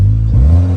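Stage 3 Polo GTI engine revving against its soft rev limiter while parked, a loud, close, low droning rev with a brief stutter as the limiter cuts in and holds.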